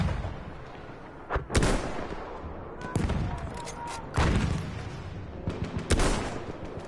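Battlefield 1 battle gunfire: a few loud separate bursts of shots and blasts at irregular intervals over a constant rumbling battlefield background, with no talking.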